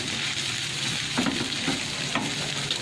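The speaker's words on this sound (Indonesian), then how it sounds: "Kita aduk terus sampai telurnya matang" Scrambled eggs fry in a pan for vegetable dumpling filling, giving a steady soft sizzle broken by a few scraping strokes as a utensil stirs them. No one speaks.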